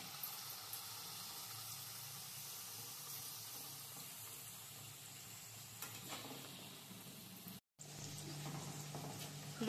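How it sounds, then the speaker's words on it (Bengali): Luchi frying in hot oil in a kadai, a steady low sizzle and bubbling that runs evenly, broken by one brief cut near the end. "তেলটা গরম হয়ে গেছে। এবার আমি একটা একটা করে লুচি ছেড়ে দিচ্ছি।"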